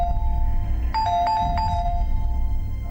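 Doorbell at a home's front door, a short electronic chime of a few clear ding tones heard over a low, steady room rumble; no voices.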